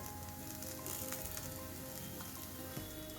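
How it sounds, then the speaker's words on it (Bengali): Sesame fritters frying in a small amount of oil over a high gas flame, giving a steady, dense sizzle that stays close and even throughout, with a few faint clinks. "গ্যাসের ফ্লেমটা বাড়িয়ে দিয়ে যদি ভাজা হয় শেষের দিকটাতে তাহলে কিন্তু এগুলো বেশি মুচমুচে হবে"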